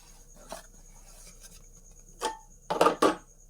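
Coconut and dry fruits are stirred while roasting in a pan, giving a few short scraping, rasping strokes, the last ones louder and grouped together, between quiet pauses.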